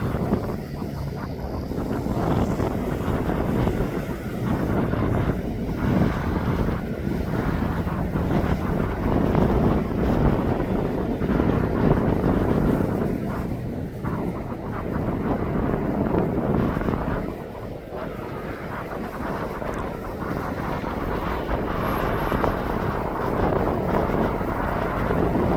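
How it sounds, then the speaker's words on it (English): A Boeing 767 inbound from New York on approach to land at East Midlands Airport, a steady broad jet roar lasting throughout with wind buffeting the microphone, moderately loud and continuous. "That's the one that's now coming into land. That's the one from New York."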